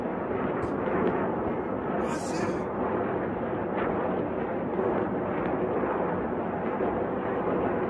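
Iron Dome rocket interceptions exploding: a continuous heavy rumble of booms rolls throughout, with a few sharper cracks near the start, and a voice talks over it.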